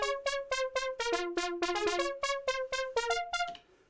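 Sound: synthesizer pulse wave patch via sequencer

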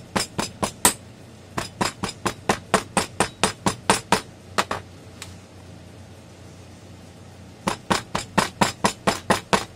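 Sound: hammering Delft clay into a casting flask

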